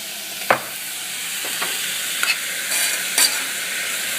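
Chopped onions and other chili ingredients frying in a pan, a continuous close sizzle broken by occasional sharp clacks and scrapes of stirring.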